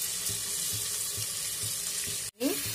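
Water streams steadily into a pan of potato curry, a loud close pouring hiss with a brief break near the end and a soft voice underneath.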